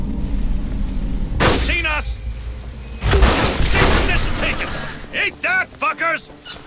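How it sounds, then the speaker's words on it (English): A grenade blast in Aliens: Dark Descent, a loud booming explosion with lingering rumble, preceded by another heavy burst and followed by rapid shouted voices and radio chatter over the fading noise. "Grenade!"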